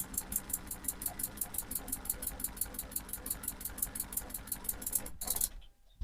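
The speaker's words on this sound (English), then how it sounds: "I'll turn the tap on a little bit and then quite a lot, and you'll hear the different types of what sounds like vibrations." Household water pump on a narrowboat, vibrating hard as a tap is opened, gives a steady buzzing rattle with a fast pulsing rhythm that stops abruptly near the end.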